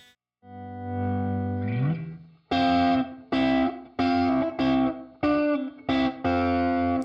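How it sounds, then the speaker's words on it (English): An electric guitar runs through a digital reverb pedal set to a small, bathroom-like room: a sustained chord slides in pitch, then a series of punchy strummed chords ring out with short, tight reverb tails, loud and alone. "So that sounds kind of like one of those bathroom reverbs, pretty small."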